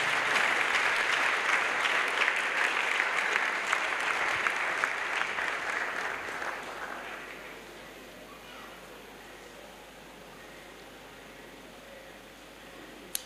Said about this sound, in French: Let's clap to the Lord.